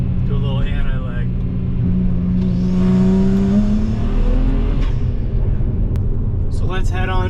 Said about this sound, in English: Do a little anti-lag.